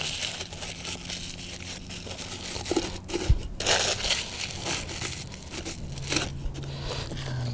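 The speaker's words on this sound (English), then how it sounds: "Just loosely crumple it up and slide it into the tube" Flame-proof rocket wadding sheets being loosely crumpled by hand, giving soft crinkling and crunching bursts, close and fairly steady, with no talk over them.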